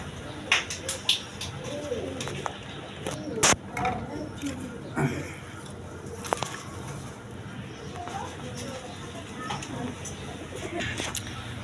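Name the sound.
pigeons cooing at a pigeon sale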